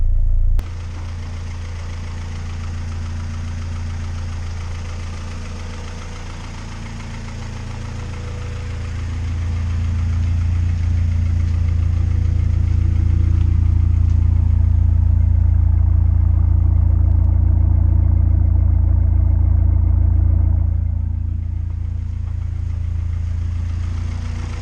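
A turbocharged Acura Integra GSR engine idles with a deep, steady low drone, then the note swells louder and fuller as the car pulls away and drives, easing back toward the end.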